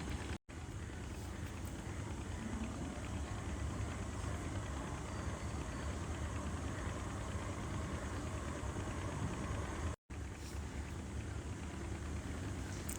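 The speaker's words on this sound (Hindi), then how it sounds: "अब इसे इस तरह से डबल करते हुए सिलाई लगा लूँगी।" Sewing machine stitching a girl's umbrella frock dress, a steady continuous whirring and rattling motor hum that runs without a break apart from two brief cutoffs, quiet and close.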